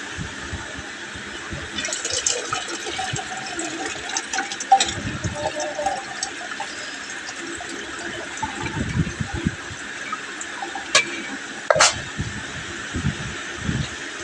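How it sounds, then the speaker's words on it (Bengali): Rice being washed by hand in a pot of water, a steady wet swishing and sloshing with occasional splashes and small clinks, fairly close and continuous throughout. "চালটা ধোয়া হয়ে গেছে"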